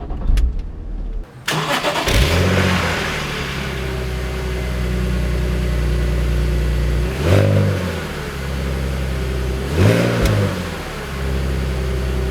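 A BMW Z4 sports car out on the road, starting up and then pulling away, with a loud close engine note that climbs through two clear revving surges. No one speaks.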